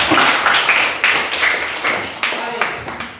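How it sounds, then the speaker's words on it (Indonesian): A grade eight Christian religion class claps hands together in a quick, regular rhythmic pattern, loud and close, with accented claps recurring throughout. "Oke, tepuk tangan dulu."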